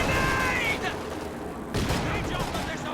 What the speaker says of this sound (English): Grenade toss to turn that engagement.